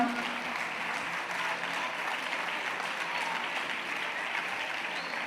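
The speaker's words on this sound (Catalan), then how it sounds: "Un fort aplaudiment per la Unió Colomenca Atletisme." A crowd at a sports awards ceremony claps steadily throughout, a dense, even wash of applause at moderate volume with no pauses.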